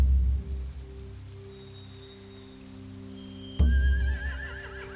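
Horses whinny in The Walking Dead video game. One loud, wavering neigh breaks out abruptly near the end over a steady low background hum, and no one talks.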